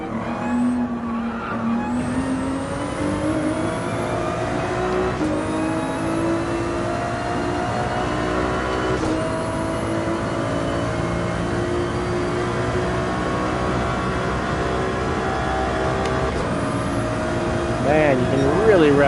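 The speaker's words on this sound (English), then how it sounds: "you can really rev up the 296 and have fun with the revs" A Ferrari 296 in Gran Turismo 7 on the Highway 1 time attack, its engine revving hard through rising and falling sweeps with tyre squeal, loud and continuous while someone talks over it.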